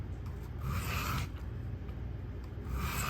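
A knife blade is drawn with firm pressure across a sharpening stone to raise a burr, giving soft, close scraping strokes in a slow repeating rhythm with no voices.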